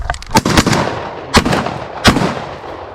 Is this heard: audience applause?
no